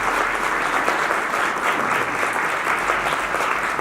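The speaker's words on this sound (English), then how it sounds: "how about a big round of applause for the folks at GDDC?" Audience clapping at a spring workforce breakfast, a dense, even round of applause from a room of people, sustained throughout without a break.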